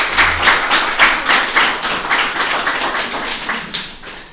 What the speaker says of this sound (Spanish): Así que un aplauso para ti.